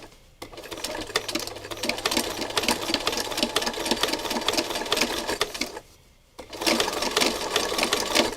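A sewing machine stitches closely spaced green thread along a trim edge, a loud rapid mechanical chatter that runs steadily, stops briefly, then resumes.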